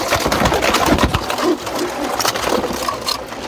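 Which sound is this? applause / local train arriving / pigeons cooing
pigeons cooing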